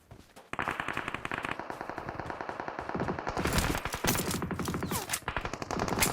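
Automatic gunfire from the video game PUBG rattles in rapid, dense bursts almost without a break for several seconds, loud and close, with crisp repeated shots stacking into continuous fire.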